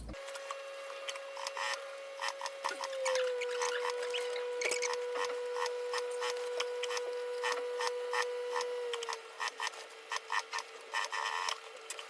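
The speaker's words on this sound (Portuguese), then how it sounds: "E agora eu vou, então, costurar aqui em volta com margem de meio centímetro." A sewing machine stitches around a backpack seam with a half-centimetre margin, its motor whirring steadily under rapid needle ticking, pausing briefly and resuming near the end.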